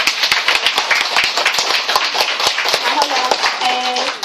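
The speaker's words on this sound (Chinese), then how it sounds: "请为我鼓掌，谢谢。" Applause from an audience at a book launch, a burst of brisk hand claps running throughout, with a voice talking briefly over it near the end.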